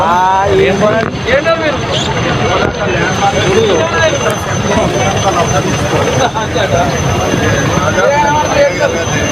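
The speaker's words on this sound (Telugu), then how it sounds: "నర్మల వాగులో చిక్కుకున్న వారిని రక్షించడానికి చేరుకున్న ఆర్మీ హెలికాప్టర్" An army rescue helicopter flies in to reach farmers stranded in the Narmala stream in Rajanna Sirisilla district. A loud, steady roar of engine and rotor noise fills the whole stretch, with voices talking over it.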